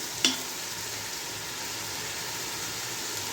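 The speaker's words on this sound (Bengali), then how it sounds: "আদা রসুনটাকে ভালো মতো কষাতে হবে" Ginger-garlic paste frying in a pan for chicken tehari, a steady loud hiss of sizzling oil throughout after one brief clink near the start, no voices.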